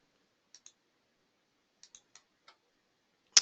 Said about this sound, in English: just by clicking we're indicating the position